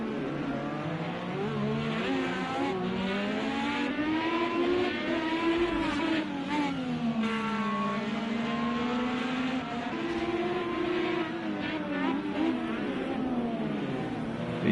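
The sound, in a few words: IndyCar race cars driving through the Laguna Seca corkscrew, sim racing video game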